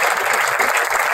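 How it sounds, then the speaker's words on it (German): Audience applause at a German film premiere, steady dense clapping from a seated crowd filling the whole stretch with no pauses. "erstmal klatschen bitte."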